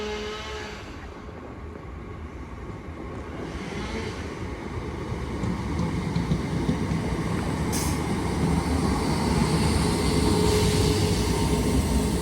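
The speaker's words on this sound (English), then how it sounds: "Train now arriving is a 319 going to Winslow." Class 319 electric train pulling into Rainhill station, a broad rumbling roar that builds steadily and grows louder as it nears, with rail noise and a brief higher hiss partway through, no talk.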